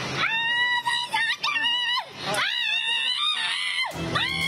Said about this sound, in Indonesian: berteriak dan meronta saat dimasukkan ke dalam mobil tahanan